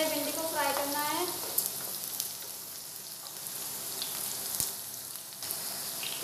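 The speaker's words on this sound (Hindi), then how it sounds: "भिंडी थोड़ी थोड़ी फ्राई होने लगी है, इसको हम चलाते रहेंगे कंटिन्यू ताकि भिंडी जल ना जाए।" Okra pieces fry in a pan over a medium-high flame, giving a steady crackling sizzle with a few sharper pops, heard alone at moderate loudness.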